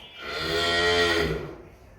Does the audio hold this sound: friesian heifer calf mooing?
yes